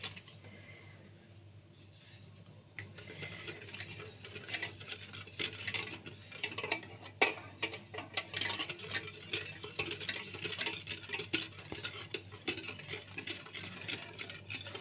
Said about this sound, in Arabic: نحركوه مزيان باش ما يتحركش لينا